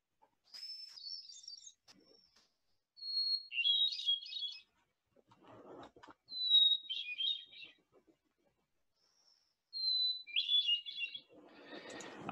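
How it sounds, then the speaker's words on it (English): A quiet, flute-like hermit thrush song: each phrase opens with a pure held whistle and dissolves into a rippling cascade, repeated four times with pauses between. "One of my favorites is the hermit thrush."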